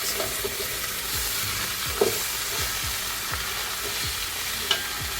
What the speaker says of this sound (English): The oil in the bottom of the pan is just enough for the beef.